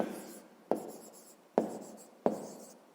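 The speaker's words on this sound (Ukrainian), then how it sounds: "пишемо" Pen writing on paper during a math exercise, four sharp taps, each followed by faint scratchy strokes, quiet and close, with no talking.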